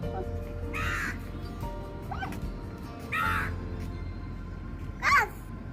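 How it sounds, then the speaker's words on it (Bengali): A crow perched some distance away in a residential housing complex caws in short bursts, about four calls spaced a second or two apart, the last one loudest, over faint steady background hum. "ওই যে দূরে কাকটা বসে আছে"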